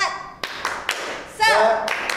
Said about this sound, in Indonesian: Kayak gini Kak, tepuk semangatnya. Tepuk semangat.